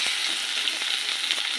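Chicken pieces fry in a pan with onions, making a bright, steady close sizzle with a few faint spatula taps and no voices.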